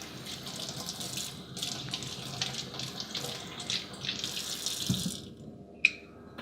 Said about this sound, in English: Then give them a rinse.